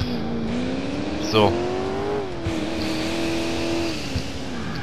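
A car engine hums and shifts pitch steadily while driving in the Alarm für Cobra 11 Burning Wheels video game, with a brief squeal, under someone talking over the game sound.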